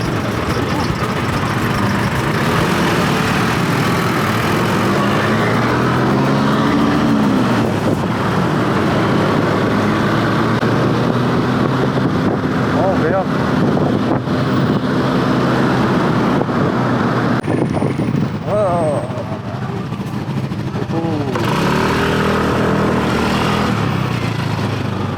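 Motorcycle engine idling and revving amid city traffic in Penang, Malaysia, a steady low rumble with surrounding road noise throughout.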